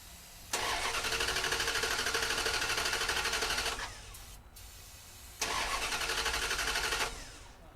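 After carburetor work, a truck engine cranks and catches, running with a loud, rapid rattling clatter for about three seconds, dropping off, then firing again for another burst before fading.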